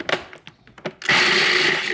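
A food processor grinding chocolate wafers with sugar and a pinch of coarse salt kicks on abruptly and whirs loudly and steadily, preceded by a few light clicks and knocks.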